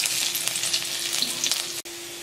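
Ginger and garlic frying in homemade ghee in a kadhai, a steady close sizzle with brief crackles that cuts out for a moment near the end before resuming.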